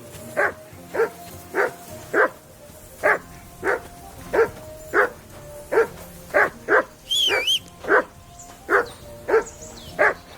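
A dog barks steadily at a regular rhythm, about one bark per half second, loud and close, with a brief high whine partway through, in the video game Kingdom Come: Deliverance 2.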